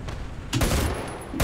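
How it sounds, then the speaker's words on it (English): A tank's machine gun in War Thunder fires two short, sharp bursts, moderately loud, separated by a brief pause, with no voices. "No, I was using my machine guns."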